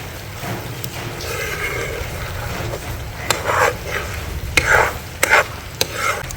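Avocado halwa is stirred with ghee in a pan on a constant soft background, with a spoon that scrapes and clacks against the pan in rhythmic bursts that grow more pronounced toward the end.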